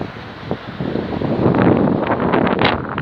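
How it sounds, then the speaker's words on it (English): Strong wind roars against a bike basket on a flat stretch of road, a loud continuous rushing that swells and gusts over several seconds. "I don't know if you're going to hear that wind blowing."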